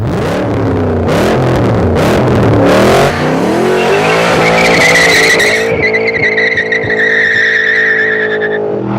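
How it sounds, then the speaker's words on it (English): MG XPower SV with a big V8 engine, loud and close, revving through rising gear-by-gear pulls with deep harmonic roar, tire squeal and a high whine layered in later, no talk over it. "This car has one of the world's great engines, a big, gurgling V8 with huge torque and an even huger thirst."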